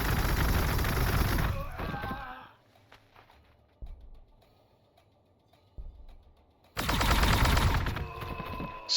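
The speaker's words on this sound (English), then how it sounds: "Pistol fire" Pistol fire in the strategy game Warhammer 40,000: Gladius, T'au faction, with loud bursts at the start and end and sparse faint shots between them.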